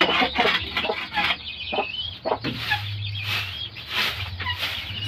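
Chickens in an African village in the morning cluck and squawk close by, with repeated short calls and a few longer, steadier notes over quiet outdoor background.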